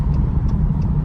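A 2019 Dodge Hellcat's engine accelerates with a deep, steady, loud roar heard close up in a brief snatch.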